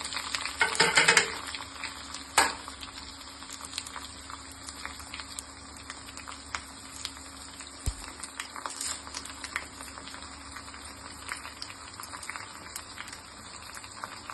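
Mustard seeds, cumin, garlic and dried red chilies frying in hot oil for tomato dal, a faint steady sizzle with light stirring and a brief louder crackle near the start.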